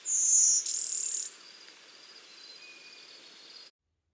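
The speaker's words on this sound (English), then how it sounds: "This would be the blue-winged warbler." A thin, buzzy insect-like song of a blue-winged warbler, two high wheezy notes close by, followed by faint background chirping for a few seconds.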